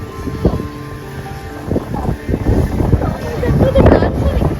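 Strong beach gusts buffet the microphone in rough, rumbling surges, rising louder toward the end, with voices talking underneath.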